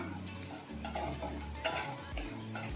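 Makhana roasting in cow ghee over a low flame, stirred with a spoon scraping and clinking against the pan, soft sizzle underneath, close and continuous without talk.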